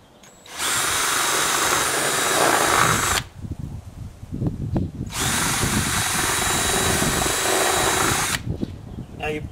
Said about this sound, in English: So at the start of each one of those scratch marks in your plastic is where you want to drill your holes